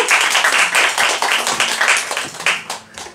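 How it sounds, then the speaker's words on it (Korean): Audience clapping at an open mic gig, a steady close wash of many hands beating in loose rhythm throughout, with no talking over it. "한번 더 박수 줄게."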